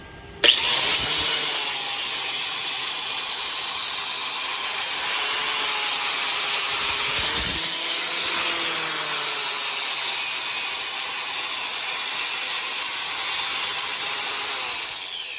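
Arc welding a bead into the bevel of stub journals, a steady loud crackling hiss that sustains for many seconds after a sharp start, with a brief dip midway.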